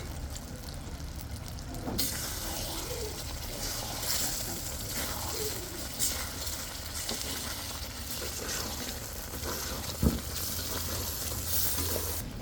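Whole cardamom, cinnamon, cloves and black peppercorns sizzle steadily in hot oil for a chicken curry with almonds, a close continuous frying hiss with light stirring and a brief clink.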